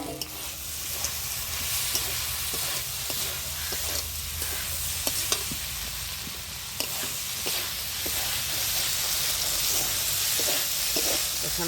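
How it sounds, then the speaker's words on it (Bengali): Prawn curry sizzles steadily in a pan with bims, a dense hissing fry throughout, while a utensil stirs it, scraping and tapping the pan with irregular clicks. "চলো, এবার একটু নেড়ে চেড়ে ঢেকে দেবো 5 মিনিট।"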